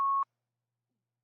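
A single short electronic beep sounds on a phone call line, clean and steady, then cuts off into silence.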